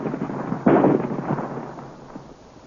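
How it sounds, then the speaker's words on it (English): A ray cannon firing at a rock in a 1935 Flash Gordon radio drama, one loud booming blast followed by rumbling crackle that slowly fades, heard alone without voices. "Swing the battery of ray cannon into position. Aim for the rock."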